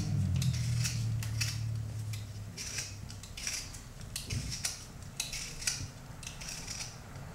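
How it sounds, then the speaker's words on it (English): Potatoes peeled with a hand peeler, a close, repeated series of quick scraping strokes in an uneven rhythm, with a low hum underneath at the start and no talk. "I'm using this peeler."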